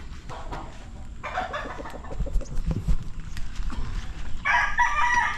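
A rooster crows twice, nearby and loud, over a busy farmyard backdrop of clucking and scattered knocks.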